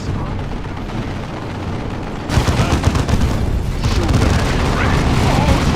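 Ork gunfire in Dawn of War 2 erupts as a dense barrage of booming shots and rapid firing, loud and close, swelling suddenly after a quieter opening and continuing alongside radio-style voices.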